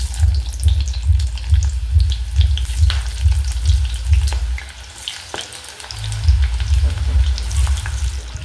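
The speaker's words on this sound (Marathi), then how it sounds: "असा हा कांदा लाल करून घ्यायचा आहे आपल्याला" Sliced onions fry in hot oil, a close, continuous sizzle and crackle with scattered pops and a brief dip partway through, then the full sizzle returns.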